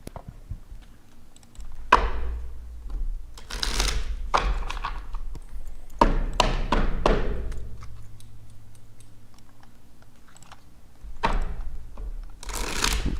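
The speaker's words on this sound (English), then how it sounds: "I'm shuffling like a motherfucker." Tarot cards being shuffled by hand, with bursts of riffling and flicking card noise and quieter gaps between them, heard up close over a low steady background hum.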